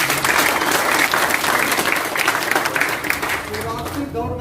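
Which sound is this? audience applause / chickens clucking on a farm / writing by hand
audience applause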